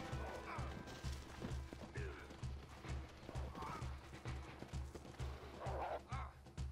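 A horse gallops in the video game Red Dead Redemption on Xbox One, with a steady, rapid clip-clop of hooves and occasional whinnies over busy game sounds.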